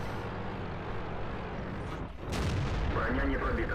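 Tank cannon fire in World of Tanks from a T-62A engaging a heavily armored E100, a dense sustained rumble of battle noise with a sharp blast near the end, loud and continuous.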